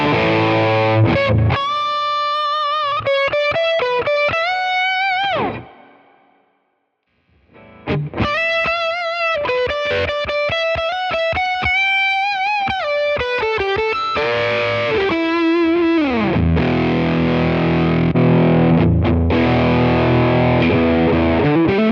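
Distorted electric guitar run through a Tone King preamp and Quad Cortex captures, loud chugging riffs and sustained chords with a brief silent gap mid-way, ending in a thick, saturated wash of sound.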